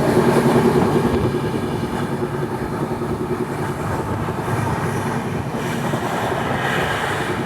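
The Capital Express pulls out of Dudhnai Junction after an unscheduled halt, giving a continuous close rumble of coaches and wheels with a windy, rushing wash and no voices.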